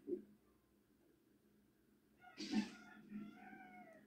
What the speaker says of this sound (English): there is also our crying pet cats that want to badly get let out of the room